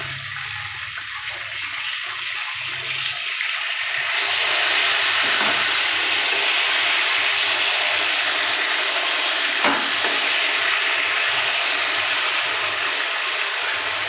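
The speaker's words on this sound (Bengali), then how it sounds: "মাছটা খুব ভালো করে লাল লাল করে ভাজতে হবে" Boal fish fries in hot oil, giving a steady, loud, close sizzle that swells after a few seconds and holds with a broad hiss, with occasional small pops.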